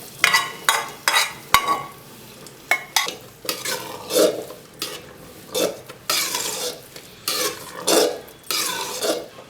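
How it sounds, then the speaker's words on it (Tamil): A spoon stirs fried cashews and raisins into a pot of sweet sakkarai pongal, giving irregular close scrapes and soft clinks against the pan with a faint sizzle between strokes, no talking. "இப்போ முந்திரி திராட்சை பொரிச்சதை போட்டுடலாம்."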